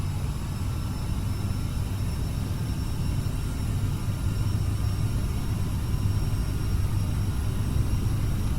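Airliner engines at full takeoff thrust in Microsoft Flight Simulator during a departure from Memphis give a steady, loud, low roar that holds without a break, with no talking.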